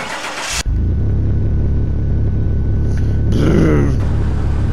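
A car engine in the video game Car Mechanic Simulator 2021 cranks and catches, then settles into a steady mid-pitched idle with a slight rise in revs near the end, loud and close.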